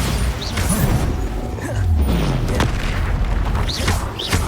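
Spell blasts and booming impacts from Hogwarts Legacy gameplay, a run of loud heavy thuds and rumbling bursts with creaks and magical whooshes layered over each other, no talking.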